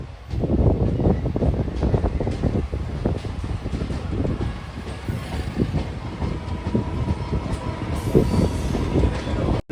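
The Sabari Express pulls out of Bapatla station on the main line, heard from on board as a continuous loud rumble of rolling wheels and clatter with faint squeals.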